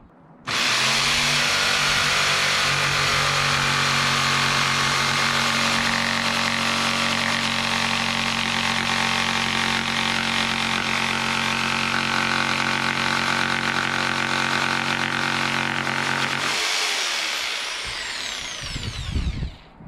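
A jigsaw cuts through wood inside a van being converted, a first attempt at the tool: a loud, steady buzzing whine runs unbroken for about sixteen seconds, then winds down and stops.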